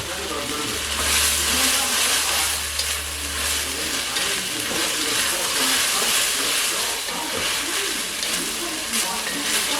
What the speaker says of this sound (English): caramelize the onions just a bit, and we're gonna add a little bit of salt halfway through